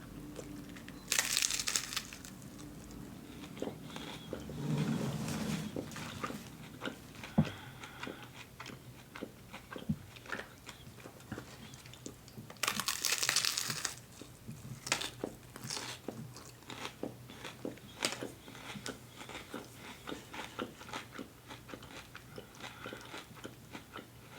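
Close, crisp bites and crunches into a Taco Bell Doritos Locos Taco Supreme, with loud crackling bursts of the shell breaking, then quieter chewing and crinkling in between, no talk.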